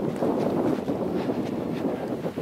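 Wind rushes over the microphone during a paragliding flight, a constant rough buffeting roar that fills the whole stretch, with no voices.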